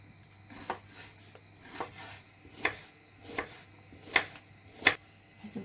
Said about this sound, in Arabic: نقطع الخضار